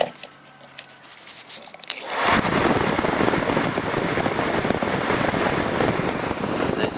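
A Toyota Previa 12 volt blower motor starts up with its polarity reversed and runs, a loud, steady whirring rush that continues alone after a quiet start.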